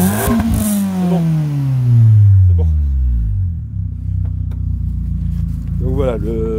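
A Renault Twingo 1.6 RS with a stainless sport exhaust revs hard up close, its engine note swelling into a loud roar, then falling back to a burbling idle before a short blip near the end.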